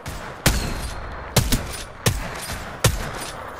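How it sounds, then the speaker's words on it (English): Gunfire in the video game Apex Legends, four sharp loud bursts spaced about half a second to a second apart, each with a short tail, no talking. "Listen up, I'm getting shot at."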